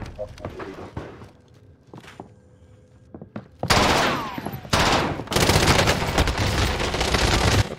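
Rapid bursts of P90 submachine gun fire in the Valorant video game, starting with scattered shots and footsteps, then long loud sustained sprays in the second half, with brief gaps between bursts.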